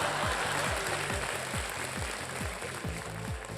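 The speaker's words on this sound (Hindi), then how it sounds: "तालियां बजी है सब।" A game-show studio audience claps in a dense, steady wash, with a repeating musical pattern underneath throughout.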